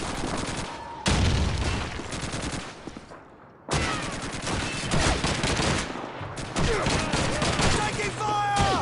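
Gunfire in the World War II shooter Call of Duty 2, dense loud rapid bursts of automatic fire with a short lull midway, then heavy shooting again, with voices occasionally under it.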